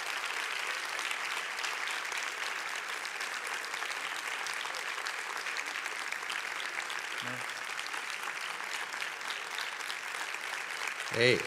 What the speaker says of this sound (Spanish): Ni en la ópera dura tanto un aplauso